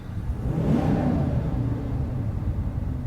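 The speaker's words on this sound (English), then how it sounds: "I'm also gonna let you hear the engine." A 2020 Ram 2500 HD pickup with the 6.4-liter Hemi V8 revs from inside the cab, a steady close rumble that swells under throttle early on and then holds a sustained growl.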